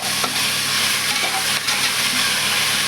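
Tomato and onion sauté in hot oil with a loud, constant sizzle and the scrape of stirring running through the whole stretch.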